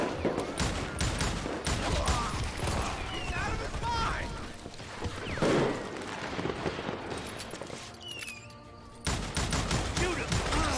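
Gunfire in the Western shooter game Call of Juarez: Gunslinger, with repeated sharp shots and clustered volleys crackling over a busy game soundscape, mixed with mechanical clicks and a brief quieter stretch before firing resumes.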